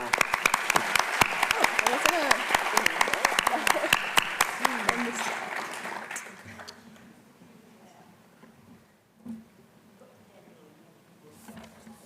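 Brisk applause from a crowd at a college awards presentation for about five seconds, then it fades out into quiet room noise with a few faint sounds.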